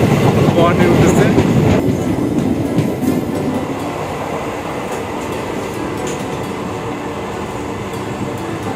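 A passenger train pulls out of Azimganj bound for Guwahati at night, a loud rumbling roll with rattling carriages that eases slightly as it settles into a steady run, some voices faint beneath it.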